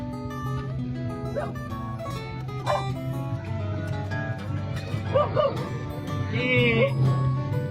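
A dog barks and yips a few times amid a busy, noisy scene with people talking and steady background hum.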